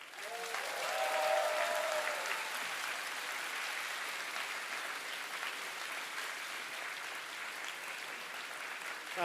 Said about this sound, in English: I want to hear the loudest cheer you can possibly give for your parents